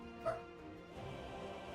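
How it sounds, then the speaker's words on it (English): One short dog bark comes from the background of an apartment, followed by soft room noise. "Shut up, dog."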